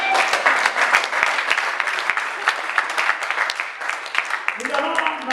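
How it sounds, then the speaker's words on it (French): Church congregation clapping steadily and loudly in praise of the Lord, dense sustained applause filling most of the stretch, with a voice rising over it near the end. "On va acclamer le Seigneur avec joie."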